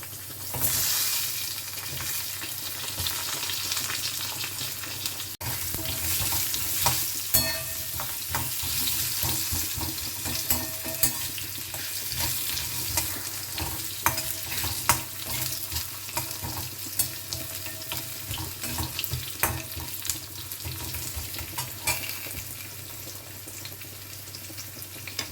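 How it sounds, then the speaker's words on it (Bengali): Long strips cut from a medium-sized potato fry in oil left over from frying fish, giving a continuous close sizzle with dense crackle and occasional sharper pops throughout. "একটা মিডিয়াম সাইজ আলু লম্বা লম্বা করে কেটে নিয়েছি। এবার এটা আমি ভেজে নেব এই তেলটাতে"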